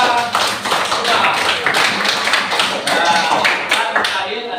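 A classroom of children claps hands together, a dense, loud burst of rapid overlapping claps that holds steady and then tapers slightly at the end.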